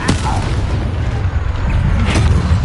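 A Confringo fire-blast spell from the Harry Potter Legacy video game: dense, loud booming explosion noise with a sharp burst at the start and another near the end, over continuous rumbling battle sound.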